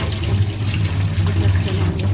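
Water pours and splashes steadily in a kitchen sink as starchy rice water is rinsed off cooked rice, a continuous close gush with no talk over it.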